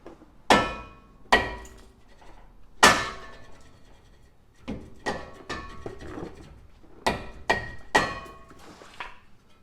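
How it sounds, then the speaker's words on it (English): Rubber mallet whacking a rusted front brake rotor on a Volvo S60 Turbo, about eight sharp, ringing blows in uneven clusters, loud and close with no talk. "I can't get it off, so let me go find a little rubber mallet"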